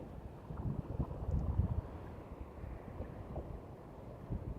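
Strong wind gusts buffet the microphone on the North Wall sea wall at Grimsby on the UK east coast, a steady low roar with a louder surge early on.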